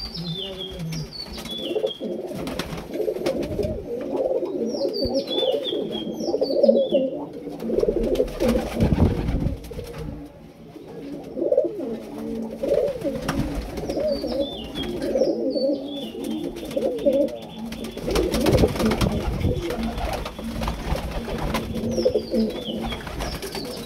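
A flock of Madrasi flying pigeons coos continuously and close, with deep rolling phrases running throughout and short high chirps from small birds scattered over the top, plus a few louder knocks and rustles.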